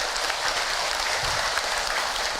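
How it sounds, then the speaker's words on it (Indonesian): Studio audience claps in a continuous, even wash of applause at an Indonesian religious talk show, moderately loud and steady throughout, with no speech. "Tepuk tangan Ibu untuk Ahilman."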